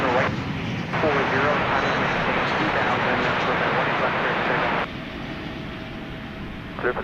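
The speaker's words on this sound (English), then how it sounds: "That's an Airbus A321." An Airbus A321 at DFW Airport at night gives off a loud, continuous broadband jet roar that holds steady, then eases to a lower, quieter rumble for the last couple of seconds.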